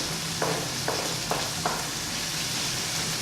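Grated ginger and garlic frying in a pot, a steady close sizzle broken by four short, evenly spaced scraping stirs.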